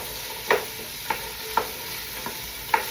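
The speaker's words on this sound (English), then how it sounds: "And into the pot we go. I'm just going to give this a little mix." Roughly chopped vegetables for Italian wedding soup sizzle softly in a pot, broken by four or five sharp spoon scrapes against the pot as they are stirred, with no voices.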